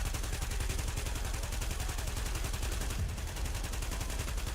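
Sustained automatic gunfire in a video game as a full magazine is emptied into an enemy, a dense rapid stream of shots running throughout.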